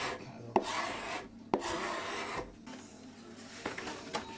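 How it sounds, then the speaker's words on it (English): A scraper dragging across wood veneer to remove excess dried epoxy mixed with mahogany sawdust on a mid-century coffee table, giving several close rasping strokes broken by small knocks. "Once the epoxy had dried, I scraped away the excess."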